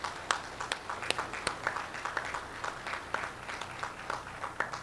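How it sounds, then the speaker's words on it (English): At an officer candidate school graduation ceremony, the audience claps for the parents in the back row: moderate applause with a few loud, distinct nearby claps punctuating a thinner, uneven patter. "So a big round of applause for your parents in the back row for getting you where you are today."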